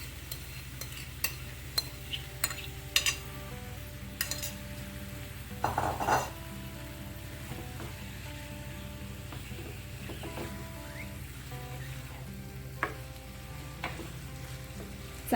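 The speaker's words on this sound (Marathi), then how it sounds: "भाज्या थोड्याशा परतल्यानंतर आता आपण याच्यामध्ये पनीर घालणार आहोत" Marinated paneer, with yogurt in the marinade, is tipped into vegetables sautéing in a pan. A low sizzle runs throughout, broken by scattered utensil clinks and a brief thump of the pieces landing.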